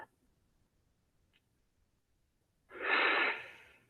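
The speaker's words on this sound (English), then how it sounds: "One more breath." A deep breath drawn during a yoga exercise, about a second and a half long, close and fairly loud after a near-silent pause.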